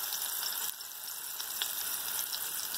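Marinated seer fish pieces shallow frying on low heat give a soft, steady sizzle with occasional faint crackles, close and even throughout, with no talking.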